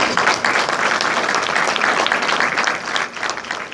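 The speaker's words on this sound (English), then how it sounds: "we owe her a round of applause" A live audience breaks into sustained applause at a community police academy event with a police commissioner, dense steady clapping from many hands filling the room with no talk over it.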